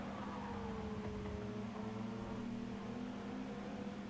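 A Supra race car engine in a racing video game holds a steady, moderately loud drone down the straight, with a faint rising whine layered over it and no voices.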